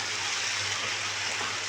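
Chicken fajita strips fry in a pan over high heat, giving a steady, dense sizzle that runs without a break through the whole short stretch, with a faint low hum beneath it.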